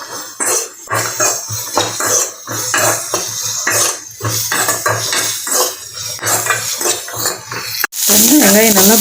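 Onions sautéing in a pan with a pinch of salt for masala dosa filling, with close, loud, rhythmic spatula scrapes and clanks against the pan, then a sudden bright burst of sizzling at the end.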